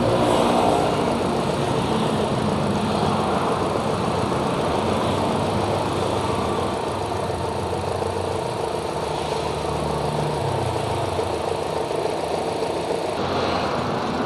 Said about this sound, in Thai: ตอนนี้ ผมทำการสตาร์ทวอร์มเครื่องไว้สักพักหนึ่ง